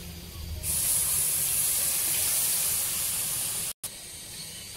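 Milk poured into flour frying in a pan over medium heat, bursting into a loud, sustained steaming hiss and sizzle that holds steady before a brief cut.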